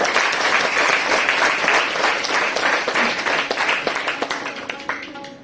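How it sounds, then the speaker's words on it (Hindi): Loud audience applause at a school talent hunt show, a dense burst of many hands clapping that carries on steadily for several seconds before thinning slightly toward the end. "उनके लिए भी जोरदार तालियां"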